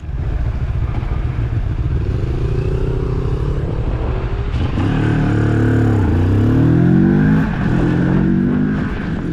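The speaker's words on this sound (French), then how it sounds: "L'échappement produit quant à lui un feulement discret et rauque, typique d'un petit bicylindre en ligne." A small Moto Morini Seiemmezzo parallel-twin motorcycle exhaust gives a discreet, husky growl, idling steadily and then rising and falling through several revs, loud and close without any voices.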